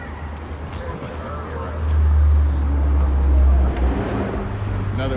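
A Porsche Panamera GTS drives past on Rodeo Drive in Beverly Hills, its engine swelling loud and close for a couple of seconds amid street traffic while people chat nearby.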